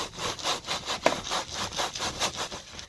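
Rhythmic back-and-forth sawing strokes on a foam cover over a RAM truck seat headrest, steady and close, with a raspy scraping texture and one sharper snap partway through.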